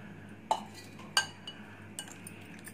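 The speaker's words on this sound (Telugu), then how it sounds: "దీంట్లో ఇప్పుడు చికెన్ ముక్కలు కలుపుకుందాం." Chicken pieces being mixed into a marinade in a bowl for malai chicken tikka, with a few separate clinks of a utensil against the dish and soft handling noise between them.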